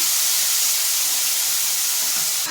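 Fenugreek and fennel seeds sizzling in a little oil, a loud, steady bright hiss that carries unbroken from start to end.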